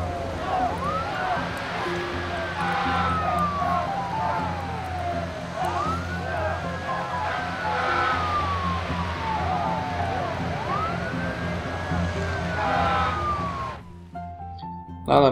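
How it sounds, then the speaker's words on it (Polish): In the SimCity video game, a fire engine siren wails in repeated rising and falling sweeps, about three cycles, loud and continuous over a busy city hum before cutting off abruptly near the end. "Ale mamy dodatkowy wóz strażacki."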